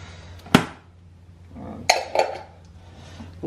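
A small container holding mustard and balsamic vinegar dressing is shaken in a kitchen, giving a few sharp knocks and rattles, one strong hit followed by two clustered clatters, close and fairly quiet with no talk.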